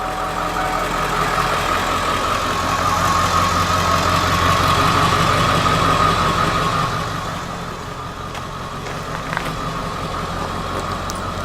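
A vehicle engine runs at a steady idle, a continuous close rumble with a slight rise and dip in level and a small knock near the end.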